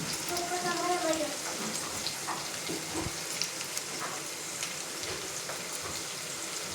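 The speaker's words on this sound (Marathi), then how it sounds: "तेल गरम झाले तर टाकायचा अख्खा मसाला. 2-3 तेजपत्ते." Whole spices and two or three bay leaves dropped into hot oil, giving a dense, rain-like crackling sizzle that stays steady throughout, with a brief voice-like tone early on and faint clatter of utensils.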